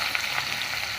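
Cut potatoes and taro fry lightly in hot oil in a pan. A steady, close sizzle with small crackles runs through a brief stretch.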